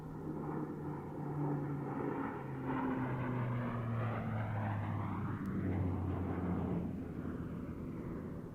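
A C-130 Fat Albert transport plane roars past at an airshow, its loud propeller drone sweeping up and down in pitch as it flies by.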